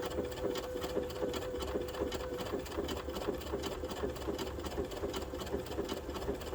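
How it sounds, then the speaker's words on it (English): A sewing machine stitching a zigzag stitch on cotton muslin fabric, running with a steady, even, rhythmic whir at moderate volume throughout, with no voices. "So to zigzag, you just select your zigzag stitch on your machine"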